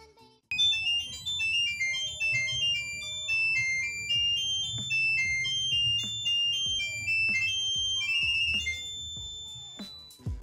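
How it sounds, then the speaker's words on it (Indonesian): Monophonic beeping melody composed on a Nokia 1202 phone's ringtone composer, a rapid sequence of thin, bright electronic tones, played fairly loud, with faint background talk and a few soft knocks underneath. "Coba dengerin nih, Freeze."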